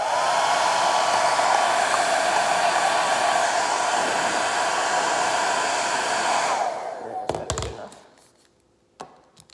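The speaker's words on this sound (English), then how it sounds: "Oh, I do have a hair dryer right here, so." A hair dryer drying paint on a custom action figure blows loudly and steadily close by, then switches off and winds down, followed by a few sharp taps and handling knocks.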